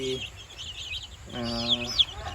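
Village chickens on a Thai farm, near fifty birds some about a month old, cluck and chirp close by in short calls that rise after a quiet stretch.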